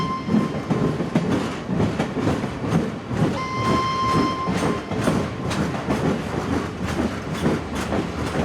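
A train at Ghum railway station in Darjeeling, India's highest station, rumbles and clatters steadily up close, with a sustained horn tone sounding for a couple of seconds midway.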